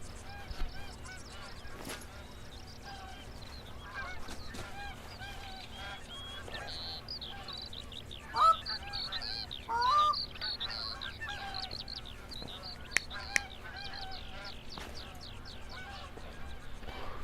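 Canadian geese honking in the hunting game theHunter, with scattered calls from a flock over steady outdoor ambience and a couple of louder, nearer honks midway.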